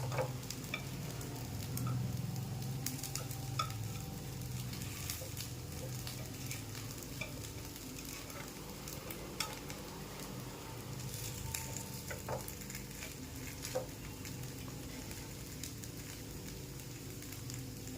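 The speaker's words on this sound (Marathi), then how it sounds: "दुसरी बाजू आपल्याला याची फ्राय करून घ्यायची आहे" Rava appe frying in an appe pan after being flipped to the other side, a low steady sizzle with scattered small ticks and scrapes, fairly faint and continuous, no voices.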